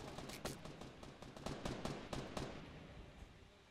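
Gunshots in Fortnite Battle Royale: a quick string of sharp, snapping shots fires in a fairly rapid rhythm for about two and a half seconds, moderately distant and faint, then tapers into quiet.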